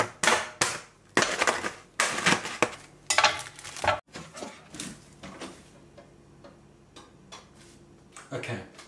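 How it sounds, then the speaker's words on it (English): A knife stabs and tears open a plastic packet of vegan fish goujons in a kitchen, with sharp, close jabs and crinkling bursts that then trail into quieter rustling. "to open this packet, we need the stab and jab knife"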